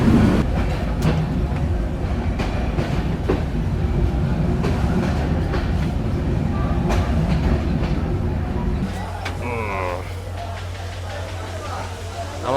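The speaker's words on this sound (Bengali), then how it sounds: "আমরা মাধবনগর রেল স্টেশন পার হয়ে চলে যাচ্ছি। এখানে ট্রেন কোনো বিরতি দিল না।" A train runs through Madhabnagar railway station without stopping, with a loud rolling rumble and rhythmic clatter of wheels that eases into a lower steady drone and a brief squeal before fading.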